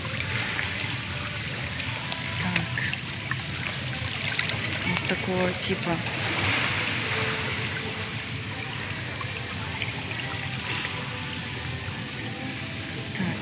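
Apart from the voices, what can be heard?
hydromassage jets pushing water in a thermal pool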